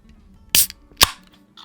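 Two sharp metallic pops about half a second apart, close and crisp, a Hawkers Imperial Stout beer can tab cracking open, followed by quiet.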